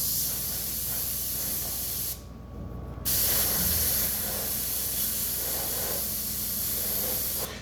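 An airbrush sprays steadily through quilt batting or a dryer sheet, a constant close hiss that cuts out for about a second and then resumes as the nozzle moves across the material.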